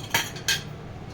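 Cooking oil being poured into a pan for khichdi, with two short metallic utensil clinks against the cookware, close and fairly quiet, with no talking.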